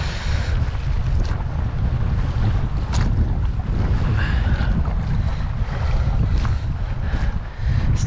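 A small dinghy crosses side-on through breaking waves in the Kingsbridge Estuary, with heavy wind buffeting the microphone over a loud, continuous rumble of water and hull slap, and no one speaking.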